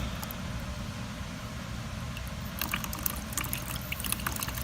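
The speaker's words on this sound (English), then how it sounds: "There's the water." Water rushes steadily through newly installed bathroom plumbing in an old jailhouse building under renovation. It is a close, continuous hiss that turns into sputtering, spurting flow about halfway through, with no talking.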